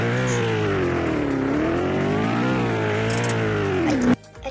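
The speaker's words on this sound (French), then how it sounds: "Donc c'est une voiture blanche, un peu sportif" A white sporty car's engine in the Valmoria video game revs with a loud, continuous droning tone that rises and dips in pitch for several seconds, then cuts off abruptly.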